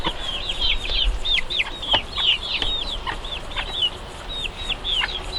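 Many two-and-a-half-month-old chicks cheep rapidly in high chirps, with occasional soft clucks from their broody hen underneath, a busy, continuous flock chatter close by.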